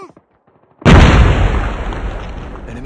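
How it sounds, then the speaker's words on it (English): Grenade exploding in the mobile shooter Call of Duty Mobile during a domination match, one sudden loud boom with a long rumbling decay, preceded by brief game voice callouts. "Grenade! Move!"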